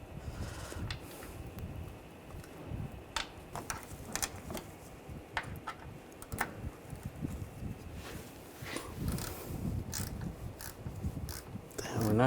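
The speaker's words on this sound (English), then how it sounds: "Now I'll get the bolts started. Get the bottom 2 in." Bolts being threaded by hand into a transmission cooler on a 2009-2017 Volkswagen Tiguan, giving irregular close metallic ticks, scrapes and small clanks over a low rumbling background, with no talk.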